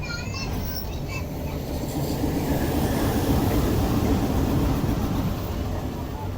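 Locomotive with a couple of sleeper coaches at Tando Allahyar railway station, a continuous low rumble of the engine and rolling wheels, steady and fairly close, with faint higher tones early on.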